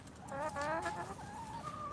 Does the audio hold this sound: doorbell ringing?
no